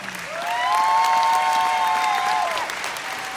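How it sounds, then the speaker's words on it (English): Audience applause fills a business presentation hall, a full, even wash of clapping that swells quickly and holds, with a few faint cheers and a tonal sound briefly sliding over it. "So please, a big round of applause to this guy."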